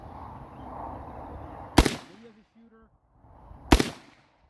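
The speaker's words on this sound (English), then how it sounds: "taking 3 shots off here" Two sharp, loud gunshots a couple of seconds apart, fired from a sitting position at an outdoor range, each with a short decaying echo and quiet background between.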